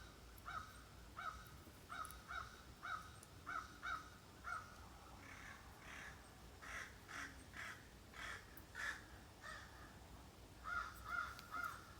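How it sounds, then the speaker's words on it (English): A crow caws repeatedly outdoors, a run of short, evenly paced harsh calls, a pause, then another quick cluster, moderately distant over faint background noise. "Listen to Mr. Crow."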